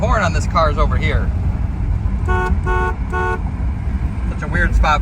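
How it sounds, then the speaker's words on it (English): Three short car horn honks in a row from a 1983 Ford Crown Victoria LTD, evenly spaced and loud, with someone talking before and after them. "Horn works. The horn on this car is over here."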